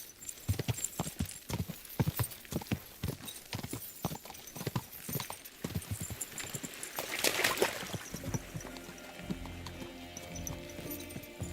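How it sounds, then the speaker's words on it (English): Horse hooves clip-clop at a steady walking pace in the medieval game Kingdom Come Deliverance II, distinct repeated thuds close by, later blending into ambient music and background sound. "This horse must have been crossing."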